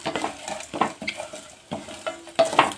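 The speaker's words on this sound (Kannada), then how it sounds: "ಕರಿಬೇವು ಸೊಪ್ಪು ಬೆಳ್ಳುಳ್ಳಿ ಹಾಕಿ ಫ್ರೈ ಮಾಡ್ಕೊತೀನಿ" Curry leaves, garlic, cumin and pepper frying in a pan, with soft sizzling under repeated spoon scrapes and stirring knocks against the metal, close and fairly quiet with no voices.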